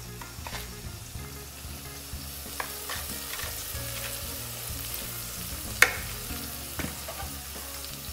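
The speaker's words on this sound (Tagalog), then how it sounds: "Halu-haluin lang natin siya" Food sizzles and fries in a pan while a utensil stirs it, scraping and clinking at irregular intervals over a steady crackle, with one sharper knock near the end; close and moderately loud, no speech.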